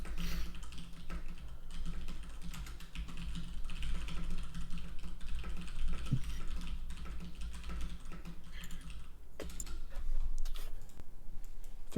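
Computer keyboard typing during a Diamond-league Zerg StarCraft coaching session, steady soft clicking of keys under a constant low hum, fairly faint and continuous with no talking.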